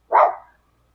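A dog in a backyard lets out a single short, sharp bark, close and loud, followed by silence.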